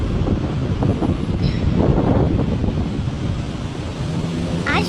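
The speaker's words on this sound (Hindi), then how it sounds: "हवा चल रहा है, अच्छा हवा चल रहा है" Wind blows outdoors at sunset as a steady, loud rushing roar buffeting the microphone, continuous and broad, with a couple of faint higher sounds in the background and no clear speech.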